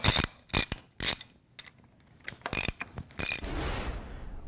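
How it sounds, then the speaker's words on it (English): A half-inch bolt on the retaining ring of a Gorman-Rupp Super T10 pump's rotating assembly is loosened with a ratchet. Short bursts of metallic ratcheting clicks come close by and sharp, separated by pauses, then end in a longer rasp. "First of all, you have to loosen the half-inch bolts on the rotating assembly on the outside of the retaining ring."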